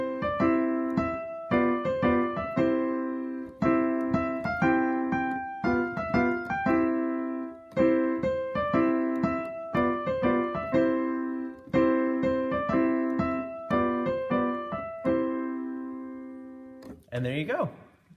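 Piano chords played in a steady rhythmic pattern, each block of notes struck and briefly sustained, clear and alone, with a short scrape near the end.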